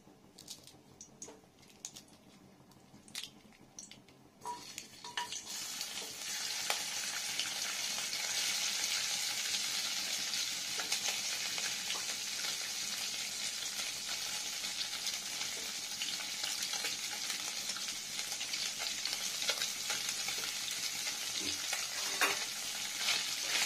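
A rohu fish head fries in hot oil. A quieter opening with scattered crackles gives way after a few seconds to a loud, dense, steady sizzle dotted with small pops, close up, with no talking.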